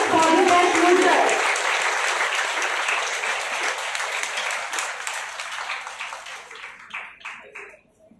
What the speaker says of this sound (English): Audience, please use round of applause for the best mooter.